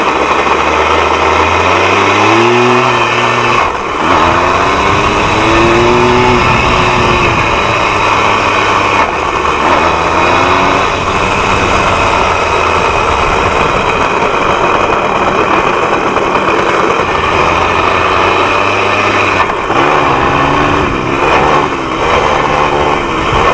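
A junkyard-rebuilt Yamaha PW80 dirt bike, which lurches on gear shifts, is ridden with its small engine droning loudly throughout. The pitch climbs and drops repeatedly as gears change, with no talking.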